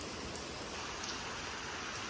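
Heavy early-morning rain falls on a village, a steady, even hiss of downpour with no voices.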